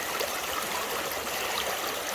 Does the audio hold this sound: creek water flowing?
yes